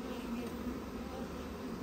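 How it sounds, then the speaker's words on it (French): Dense, steady buzzing of many honeybees close by, spilling out of an open hive during queen rearing, a continuous droning hum with no voices. "là ça dégueule d'abeilles"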